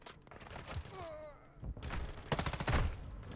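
Bursts of M13 rifle fire in Call of Duty: Modern Warfare II, short rapid volleys with a light, pellet-like quality, arriving in a few clusters among game noise.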